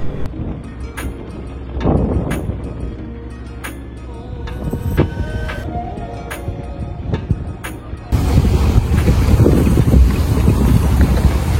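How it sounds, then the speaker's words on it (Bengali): Wind buffets the microphone at a riverside ghat in Hatiya, Noakhali at high tide, with fishing trawlers and boats nearby and low engine-like rumble, growing louder and rougher in the last few seconds. "মাছ ধরার বিভিন্ন ট্রলার এবং নৌকা দেখা যাচ্ছে।"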